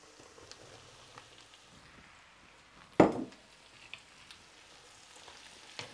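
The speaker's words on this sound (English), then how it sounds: "I'm going to add the okra now." Okra drops into a pan of frying onion with one sharp sizzling burst, then settles into a faint, steady crackle.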